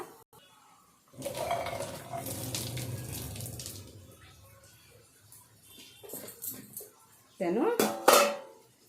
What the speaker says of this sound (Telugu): ఇది చికెన్లో వాటర్ అంతా ఊరిందండి. ఈ వాటర్ వంచేస్తానండి